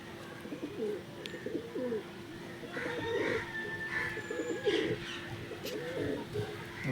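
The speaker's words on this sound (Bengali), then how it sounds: "ধুম বন্ধ ধুমের পায়রা।" Loft pigeons, including a dhum-bondho type, repeat low, rolling coos in short bursts, close and moderately loud, with a few faint chirps and no speech.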